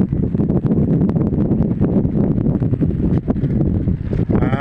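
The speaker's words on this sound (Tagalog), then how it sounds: "Napakalakas na naman ng ulan." Loud, dense rushing noise from heavy rain in Bulan, Sorsogon, Philippines, blended with gusty wind buffeting the microphone, continuous throughout.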